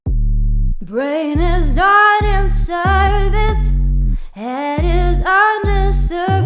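A sung vocal sample, unprocessed and with some room reverb already on it, plays as a continuous melodic line with sustained notes and short breaths between phrases, loud and upfront.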